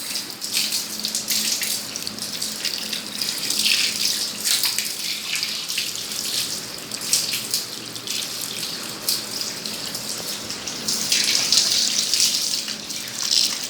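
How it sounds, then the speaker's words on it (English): Tap water runs steadily into a sink, rinsing a treatment off the legs, a continuous close splashing wash that swells louder near the end, with no talking. "Okay, so then you wash it off."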